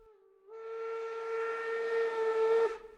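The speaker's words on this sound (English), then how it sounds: "As the train made its first gentle motion of departure" A departing steam train sounds a single long, steady whistle. It swells in after a faint start, holds loud for about two seconds, then cuts off sharply.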